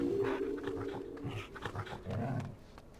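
A dog in the video game Final Fantasy XIV makes rough, throaty growling and panting sounds, fairly close and continuous over a low background.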